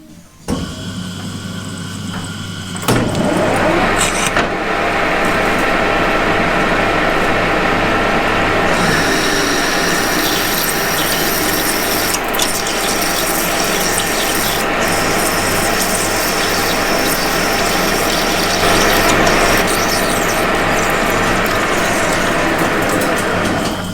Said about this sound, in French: je perce un avant-trou